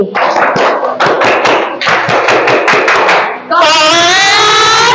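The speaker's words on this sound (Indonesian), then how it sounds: "Sekali lagi, tepuk semangat." A group in an Indonesian teachers' coaching session claps the rhythmic 'tepuk semangat' pattern, with crisp claps bunched in quick patterned bursts. A loud shouted chant from the group follows, close and energetic.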